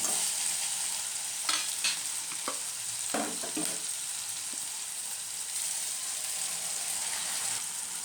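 Masala paste of green chilli, ginger, garlic and coriander leaves frying steadily in a pan, a constant hiss with a few stirring scrapes and clinks near the start, close and fairly loud.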